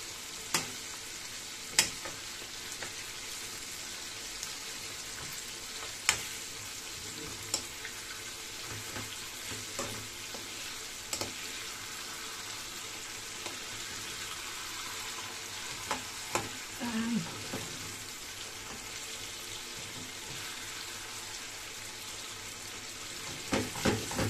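Garlic frying in a pan for chicken and rice, a soft steady sizzle with scattered clicks and stirring knocks, fairly quiet and close, no talking.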